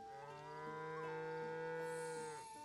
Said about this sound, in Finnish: Ah, se on lehmä.